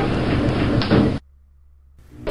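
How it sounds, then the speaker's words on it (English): Elevator doors slide shut in a Roblox elevator tower game, a steady mechanical rumble that stops abruptly, leaving a low hum before a faint sound returns. "Doors closing."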